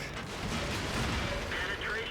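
A tank cannon firing in a tank battle video game, one loud, dense blast that fills the whole moment with a heavy rumbling roar and debris-like noise, close up and alone.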